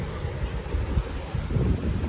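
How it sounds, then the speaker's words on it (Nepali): Cold wind blows across the microphone at Tatopani near Sikles, a low rumbling buffet that swells and gusts unevenly over the short stretch, with no voices. "हावा डेन्जर चिसो चल्यो"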